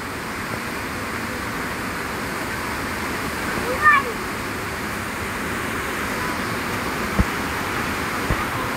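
Tinuy-an Falls in Bislig City roars as a constant, dense rush of falling water, steady and loud, with faint voices and a brief chirp over it.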